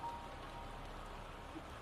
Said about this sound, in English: The rain don't make it no better.